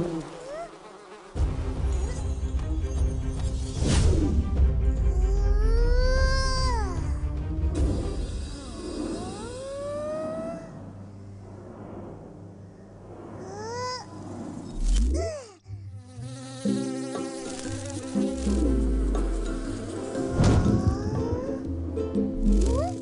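Fruit flies buzz in an animated children's cartoon, several whining, swooping buzzes rising and falling in pitch, mixed with cartoon music and effects and children's voices talking.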